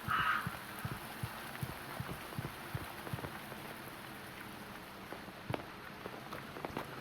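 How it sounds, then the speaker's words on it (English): Steady rain patters on a circus tent in the video game Reveil, a dense continuous drumming on the taut surface overhead with occasional louder drops, no voices. "Hear the rain on the circus tent?"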